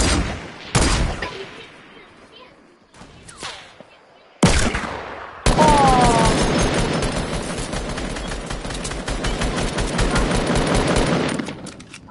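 Automatic gunfire in a Fortnite match: a few isolated shots early, then a sustained, loud burst of rapid fire from about halfway through that runs to the end before cutting off.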